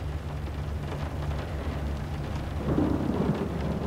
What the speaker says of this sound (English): I love the ambiance of like the rain and the thunder.